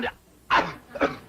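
Three short, sharp bursts of breathy sound, like sneezes, spaced out with quiet gaps between them, close by.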